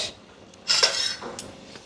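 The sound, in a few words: dishes and utensils clattering in sink basin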